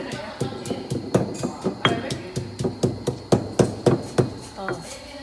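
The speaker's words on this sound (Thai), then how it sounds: "เราโขลกกระเทียมพริกไทยแล้วก็ รากผักชีเข้าด้วยกันนะคะ" Garlic, pepper and coriander root pounded in a mortar with a pestle: a steady run of about twenty sharp, evenly spaced thuds, close and fairly loud, with no talking over them.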